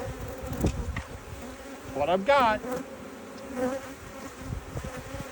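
Honey bees buzz steadily around a hive frame holding capped brood, open larvae and eggs after most bees were shaken off, a close insect drone running beneath a man's brief speech.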